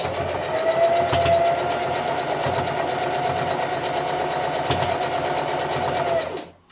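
A sewing machine stitches a seam on a beginner's baby quilt, its steady whirring hum running continuously for several seconds before stopping abruptly.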